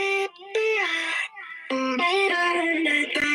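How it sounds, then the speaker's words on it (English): A chopped, pitch-shifted vocal sample plays as a melodic song intro through speakers, with short choppy sung phrases broken by brief gaps and layered harmonics. "chopped it up, and it sounds like this"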